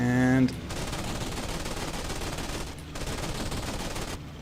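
Aircraft machine guns fire in a continuous rattling burst during a Battle of Midway dogfight between an A6M2 Zero and an F4F Wildcat in IL-2 1946, loud and close, with a brief pause near the end.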